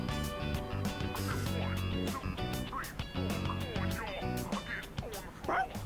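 Koromaru, the dog in the video game Persona 3 Reload, gives a few short, happy yips and barks over steady game music.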